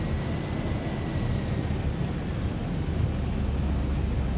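Boeing 737 airliner (ZiboMod) in X-Plane 11 flying through a storm on final approach, a steady broad engine and wind roar that holds loud and constant throughout, with no talk.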